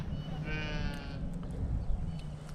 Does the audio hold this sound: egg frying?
no